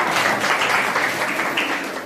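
Audience at a Jain religious class in Pusad claps together, a steady, fairly loud patter of many hands lasting about two seconds without a break.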